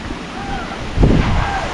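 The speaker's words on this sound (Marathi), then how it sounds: "वारा भरपूर आहे" Strong gusty wind blows during a Konkan storm, a roaring rumble that swells suddenly halfway through the short stretch.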